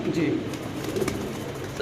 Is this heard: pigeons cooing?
yes